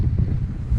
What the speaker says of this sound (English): it's a bit windy, it's kind of cold